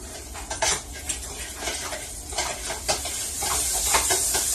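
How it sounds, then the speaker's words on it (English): Half a stick of butter sizzles in a pan heated on high, a steady crackling hiss with small pops and clinks of stirring throughout. "once your pan gets good and hot, we're going to go ahead and add in our butter"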